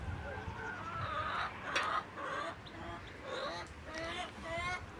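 Farmyard poultry, chickens and ducks, clucking, quacking and honking repeatedly close by in an outdoor yard, a steady mix of overlapping bird calls with no clear talk.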